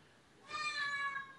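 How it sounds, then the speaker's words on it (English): A cat meows once in a drawn-out, tonal call close to the microphone, rising from a quiet room and fading after about a second. "Cat."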